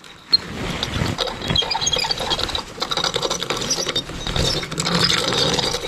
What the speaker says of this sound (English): it's got a little pulley system.